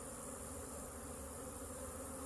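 Honey bees buzz during a smoked hive inspection, a close, continuous droning hum that stays even and unbroken throughout, with no voices.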